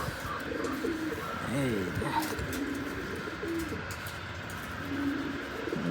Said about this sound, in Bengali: এগুলো খুবই এক্সপেন্সিভ একটা কবুতর ফেদারগুলো দেখেন